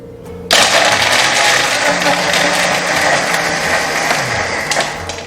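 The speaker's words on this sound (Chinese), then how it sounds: "有很多朋友说我们这个破壁机声音很小" A high-speed blender switches on with a sudden loud roar and keeps running steadily at full power for several seconds, close and unmuffled, with no talk over it.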